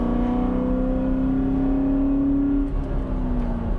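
A 2004 Ford Mustang Mach 1 with its 4.6-liter V8 and five-speed manual, low mileage and mildly modified, pulls hard with a loud, steady exhaust note rising in pitch for nearly three seconds before easing off near the end.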